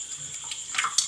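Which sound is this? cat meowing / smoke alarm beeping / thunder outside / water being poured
water being poured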